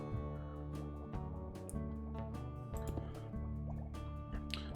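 Water placed in Minecraft gives a run of bright dripping, splashing pops and liquid fill sounds over a steady tonal game music bed, repeated every second or so at close range.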